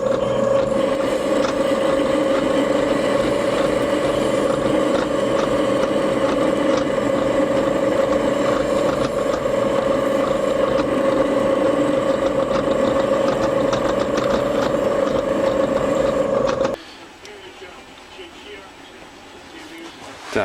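A TV-16 lathe turns a metal shaft with a steady, loud mechanical hum and whine of the motor and gearing, running evenly for about seventeen seconds before abruptly dropping to a low, quieter rumble.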